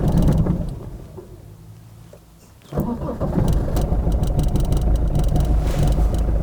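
An old, abandoned car's engine cranks quietly, fails, then catches on the second attempt and settles into a loud, steady idle that runs to the end.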